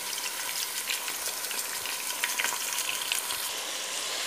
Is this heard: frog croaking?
no